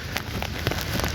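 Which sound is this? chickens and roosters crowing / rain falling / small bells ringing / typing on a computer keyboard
rain falling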